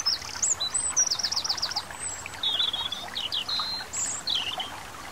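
Birds sing in a country meadow: repeated chirping and warbling phrases, fairly close and clear, over a steady soft wash of running stream water, with no voices.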